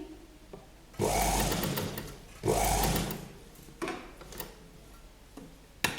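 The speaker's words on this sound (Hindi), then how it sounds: "और अब हम ये कॉर्नर से फिर सीधी सिलाई लगा लेंगे।" A sewing machine stitches a straight seam on a kurti placket in two steady bursts of whirring, rhythmic needle ticking, separated by pauses with light clicks and handling, close up.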